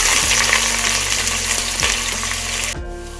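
Onions frying in oil for mushroom biryani, a loud close sizzle with a few stirring scrapes, cutting off sharply near the end and leaving a low hum.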